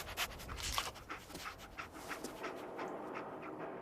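A dog companion in Fallout 4 pants steadily through short, breathy bursts, close and fairly soft, with faint game ambience behind and no talking.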